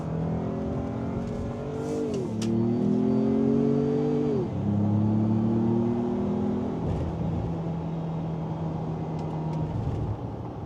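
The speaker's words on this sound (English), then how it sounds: "it is upshifting on its own when you hit the limiter" Ford pickup truck engine revving hard under acceleration, climbing in pitch to the rev limiter and dropping on each automatic upshift, with three or four gear changes in a steady, close, loud in-cabin drone.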